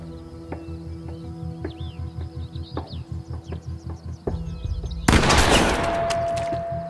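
Gunfire in the video game The Quarry: a rapid series of sharp, evenly spaced shots, followed by a heavy blast and a sustained noisy roar at the end, with no talking.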